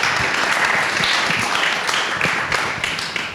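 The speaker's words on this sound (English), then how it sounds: "You can give a round of applause for our speakers" Conference audience applauding panel speakers at a decentralized identity discussion: dense, steady clapping from many hands in a hall, loud and close, with a few sharper individual claps standing out.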